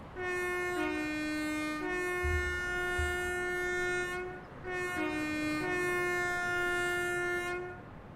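An LNER Azuma train in the Train Sim World 4 video game sounds its two-tone horn loudly, in two long blasts separated by a short pause, with a low rumble underneath.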